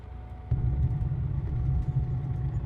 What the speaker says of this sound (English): Ground wheel noise is quite loud